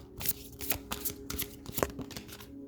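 A deck of cards is shuffled close up, a quick series of crisp riffling bursts and soft slaps in a steady rhythm, heard alone.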